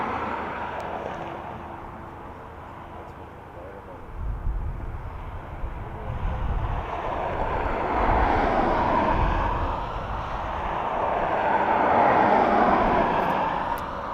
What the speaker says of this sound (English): Egyptian Air coming in from Cairo. 737. 7-year-old aircraft.